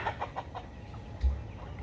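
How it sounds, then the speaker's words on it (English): A flock of adult farm chickens gives a quick series of soft, close clucks, fading into low background rustle with a brief thump. "They're my adult chickens."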